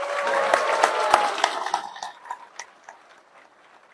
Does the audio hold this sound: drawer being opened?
no